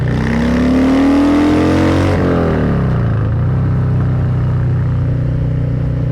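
A Harley-Davidson Softail Heritage Classic 114 motorcycle accelerates hard, its loud, deep engine rising in pitch, dropping briefly at a gear change, then settling into a strong, steady roar close to the rider.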